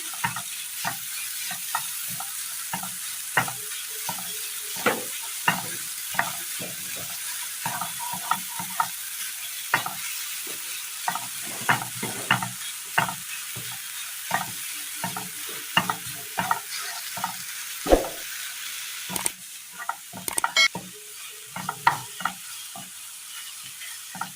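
Crushed pumpkin frying in a hot pan for a Kerala snack, a steady hiss of sizzling broken by frequent scraping stirs of a spatula, close and moderately loud with no voices.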